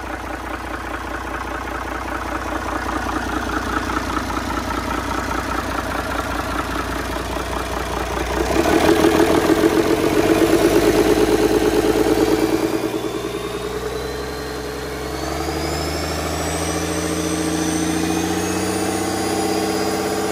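A Cummins C300 diesel engine runs smoothly at a steady idle, loud and close. It swells briefly in intensity midway, then settles, with a faint rising whine near the end. No one speaks.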